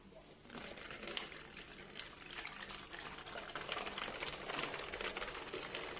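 Water poured from a container into a plastic 2-liter bottle, a steady splashing trickle that builds slightly over several seconds, close and fairly quiet with faint crinkling.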